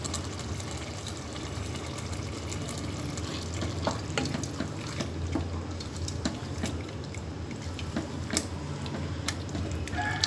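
A pot of halwa kaddu pumpkin curry with green chillies and coriander cooks steadily, giving a continuous soft sizzle with scattered small ticks and stirring scrapes, fairly close and with no voices.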